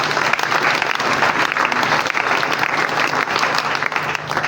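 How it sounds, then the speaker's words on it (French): A church congregation bursts into loud, sustained applause praising the Lord, dense clapping that fills the room evenly for several seconds with scattered voices mixed in. "Est-ce qu'on peut acclamer le Seigneur?"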